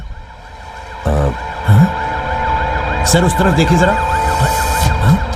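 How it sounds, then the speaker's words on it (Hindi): An ambulance siren wails in a scene from a Hindi-dubbed South Indian film, its rising and falling tone running beneath close male dialogue and sharp bursts of other sound. "यहाँ पर एम्बुलेंस आ गई है।"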